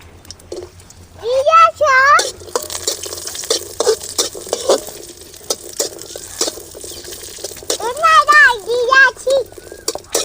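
Cashews and raisins frying in a pan for coconut milk payasam, a soft sizzle broken by scraping stirs and light patter, under a voice talking over the cooking.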